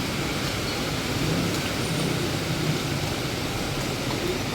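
Steady, dense rainfall on Taft Avenue in Manila during flooding, hissing continuously, with a broad wash of noise and low rumble throughout and no voices.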